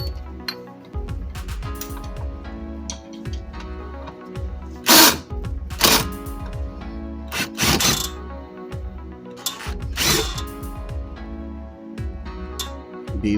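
An impact gun or drill spins bolts out of the transmission bracket on a Chrysler 300, firing in repeated whirring bursts with clanks and ticks between them. The tool sounds close and loud.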